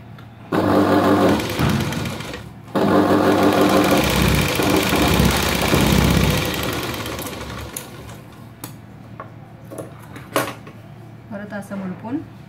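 An electric sewing machine runs edge-stitching along the curved seam of a princess-cut blouse in two sustained whirring bursts, then quiets to faint handling noises near the end.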